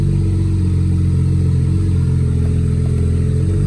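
A BMW 335i E92 engine idles with an open downpipe while power steering fluid is bled, a loud, steady low rumble with a fast pulsing throb, close and constant throughout.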